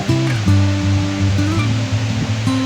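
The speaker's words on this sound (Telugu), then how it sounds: "ఈ వాటర్ సౌండ్ చూశారు కదా ఎలా ఉందో" Steady, loud rushing water at Kothapalli waterfalls fills the clip with a dense roar, and a low droning hum runs underneath throughout.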